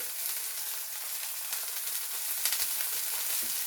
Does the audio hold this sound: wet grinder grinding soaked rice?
no